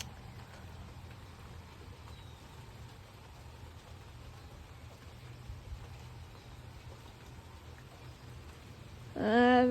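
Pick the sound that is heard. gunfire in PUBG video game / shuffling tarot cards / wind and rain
wind and rain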